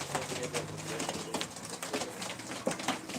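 Pigeons coo softly amid a busy background of fluttering and chatter, with low murmuring calls repeating throughout.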